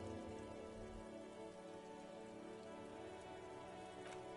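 Steady rain falls and drips off Eternite-covered roofs across an urban coastal city in the video game Disco Elysium, a dense, even patter that holds throughout with no voices.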